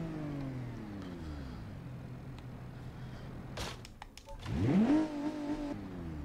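A car in a video game revs and accelerates, its engine pitch climbing sharply near the end after a quieter stretch of steady driving noise.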